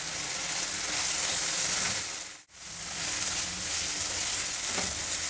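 Onions with fresh green peas crackle in hot oil tempering for coriander rice bath, a constant bright sizzle nearby, broken by one abrupt brief gap midway before resuming just as loudly.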